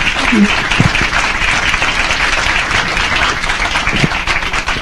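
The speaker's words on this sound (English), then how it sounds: "So would you give Jackie a round of applause, please" Loud, full applause from the audience after an author talk with Jacqueline Winspear. Dense clapping continues steadily while a few voices can be heard briefly beneath it.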